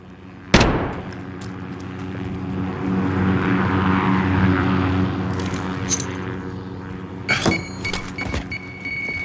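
In Call of Duty: Modern Warfare, an aircraft delivering a care package roars overhead, its propeller engine drone swelling and fading after a sharp opening bang, with a few clanks and game effects near the end.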